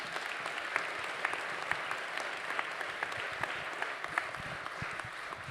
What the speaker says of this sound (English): I want to give a round of applause, please, to our candidates this evening as well